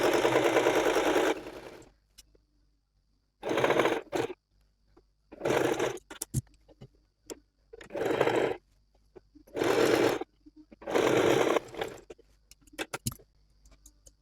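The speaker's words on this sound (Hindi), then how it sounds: "हम इसको स्टिच कर लेते हैं" A sewing machine stitches fabric for an umbrella palazzo in six short bursts of rapid, close mechanical whirring, each lasting about a second, separated by brief pauses with light handling noises.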